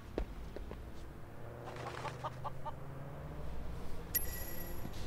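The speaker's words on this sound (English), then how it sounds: "this leads me to believe we have living chickens in the back of the car" Live chickens cluck faintly from the back of a van in Sleeping Dogs, with a few short clucks over a low engine-like rumble and a brief bright sound near the end.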